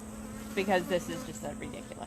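Honey bees buzz densely around an open hive, a continuous close drone with a steady hum underneath while a person speaks over it.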